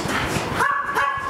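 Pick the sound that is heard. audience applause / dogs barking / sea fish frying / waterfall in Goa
dogs barking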